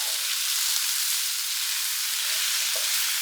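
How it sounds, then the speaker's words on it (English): All-purpose gluten-free flour being mixed into meat in a hot pan, giving a loud, steady, hissing sizzle throughout, with one brief utensil tap near the end. No talk. "I'm going to add a little bit at a time, mix it around."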